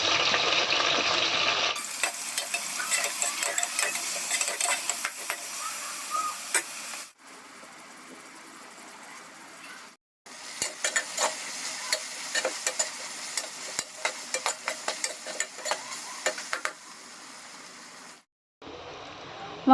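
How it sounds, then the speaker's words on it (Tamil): Onions and slit green chillies sauté in a pan, a crisp sizzle broken by bursts of rapid spoon-scraping, with two short quiet gaps where the stirring stops. "வெங்காயம் நல்லா வதங்கிடுச்சு"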